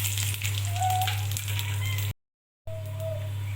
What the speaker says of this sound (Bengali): তেল গরম হয়ে গেছে, এবার ফোড়ন আর শুকনো লঙ্কা দিয়ে দিচ্ছি